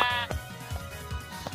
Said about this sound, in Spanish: Ahora vamos a matar primero a la ovejita.